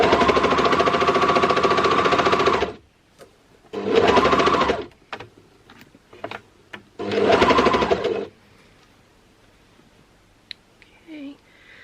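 A home sewing machine stitches fabric along a seam allowance in loud, steady bursts of whirring motor, stopping and restarting several times, with quiet pauses and small handling clicks between runs.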